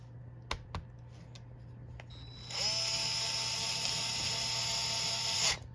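A small electric screwdriver whirs steadily for about three seconds as it tightens a screw in a laptop, following a few faint clicks of handling.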